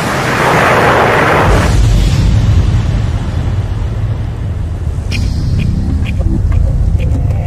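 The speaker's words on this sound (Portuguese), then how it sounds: "e quando atingisse o solo haveria uma grande explosão" A meteor strikes the ground in a huge explosion: a sharp, bright blast bursts out at once, then collapses into a deep, lingering rumble, with a voice speaking over the tail.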